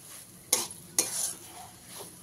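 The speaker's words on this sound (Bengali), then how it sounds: "দিয়ে লঙ্কাটাকে ভালোভাবে মিশিয়ে নিয়ে নামিয়ে দেবো" Chili is mixed into mashed cabbage in a pan, two sharp scraping strokes of a spoon against metal followed by softer stirring, close up, with no talk.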